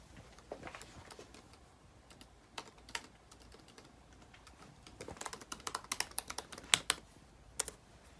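Quick, uneven keystrokes on a computer keyboard while someone logs in, with scattered clicks that grow denser and sharper toward the end, fairly quiet and with no voices.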